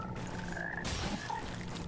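Frog enemies in the game Mortal Shell let out low croaks amid a hissing ambient background, with brief chirps and a sudden swell of noise partway through.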